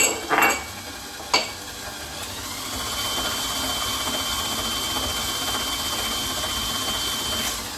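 An electric mixer whirs steadily through cookie dough with vanilla extract in a bowl after a couple of brief clunks at the start, a close, even motor drone.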